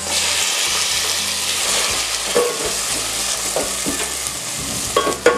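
Tomatoes hit a pan of frying spices for an egg dish, setting off a loud, steady sizzle with scraping stirs that pick up near the end; close and continuous, with nobody speaking.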